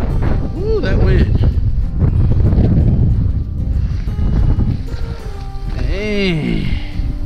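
Strong gusty wind buffets the microphone beside the lower Guadalupe River near New Braunfels, Texas, a loud continuous roar with surging gusts, while someone talks at intervals over it.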